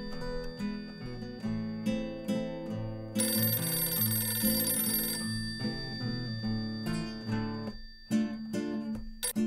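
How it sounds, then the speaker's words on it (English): A telephone bell rings in a bright burst of a couple of seconds, set amid a continuous orchestral film score that plays loudly before and after it. "A few weeks after the suit was filed, the phone rang."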